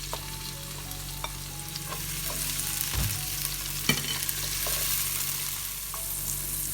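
Chopped onion, green chilli and tomato frying in oil for plain kuska biryani, a steady close sizzle with a few stirring scrapes and clinks breaking through.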